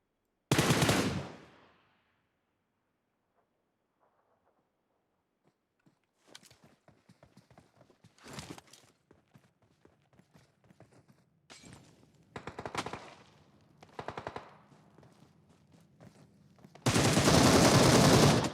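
Gunfire in the mobile battle royale PUBG Mobile, with loud bursts of automatic fire at the start and end and scattered shots and clatter in between, separated by quiet gaps.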